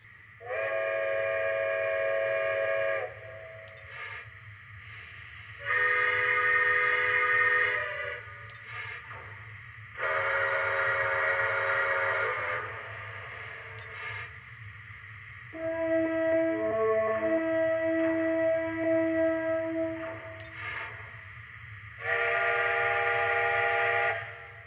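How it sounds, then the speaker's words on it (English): Whistle of a Lionel Legacy Polar Express model train engine, sounding in five loud sustained blasts of a few seconds each, separated by gaps over a steady low running hum, with one shorter, wavering lower-pitched call in the middle. "the one movie-like whistle they put in here"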